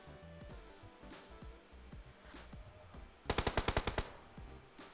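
Video game gunfire: scattered, quieter single shots, then a loud rapid burst of about eight automatic rounds near the end.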